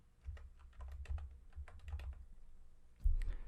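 Quick bursts of typing on a computer keyboard, close and fairly quiet, with clustered keystrokes, a short pause, then a heavier key press near the end.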